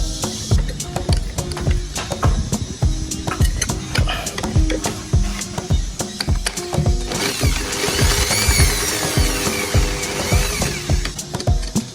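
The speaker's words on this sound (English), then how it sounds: "Tie it firmly, then turn on the drilling machine." A power drill spinning a sandpaper attachment whirs continuously with rhythmic mechanical rattling and scraping, loud and close, with no talking.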